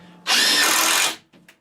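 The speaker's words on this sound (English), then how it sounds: "maybe I can get one in from the bottom if I get my drill up in here" Power drill driving a screw into wooden shelving during a cheap DIY shelf build, one loud sustained whir of about a second that cuts off sharply, followed by a brief quieter burst.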